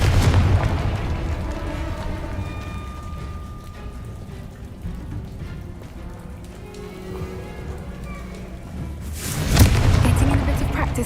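A Confringo blasting spell bursts in Hogwarts Legacy, a loud booming explosion near the end following a rumbling, rain-like wash of game ambience, with a voice speaking in the middle.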